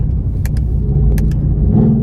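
Mercedes-AMG GT R pulling hard up a freeway on-ramp, its engine note a loud, steady drone close by with a couple of brief higher clicks over the roar.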